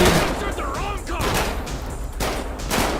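Shotgun fire in the video game GTA V: a dense run of loud, sharp blasts overlapping one another across the whole stretch, with broadband cracks and clattering game noise but no clear voices.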